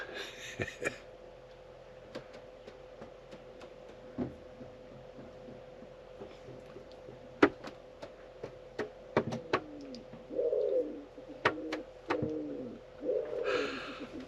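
Pigeons on a van roof coo softly while sharp little taps and thumps of their feet scatter across the clip over a faint steady hum.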